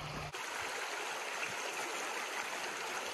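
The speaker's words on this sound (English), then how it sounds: "This is a more typical stream that you'll find when you're camping or whatever." A typical small camping stream flows in a continuous close rushing babble, steady and fairly loud from start to finish, with a brief low thump at the very beginning.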